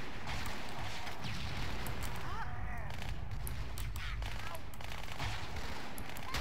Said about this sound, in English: And then there's some shelling.